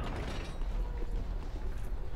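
Heavy grinding mechanism of a door opening in Dark Souls 3, a steady low rumble with faint creaking and ratcheting, fairly close, with no voices over it.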